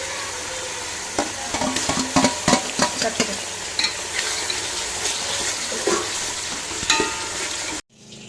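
Onion, mint, cinnamon, cloves and cardamom sizzle in hot oil for white kuska while a spoon scrapes and stirs the pan in repeated strokes. Close and moderately loud, with no talk.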